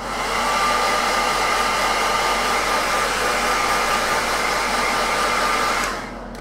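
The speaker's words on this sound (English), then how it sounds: "I'm going to hit this with a hairdryer again." A hair dryer blows steadily on a freshly painted Knight Armiger miniature, a loud even whoosh with a faint high whine running for about six seconds before cutting off.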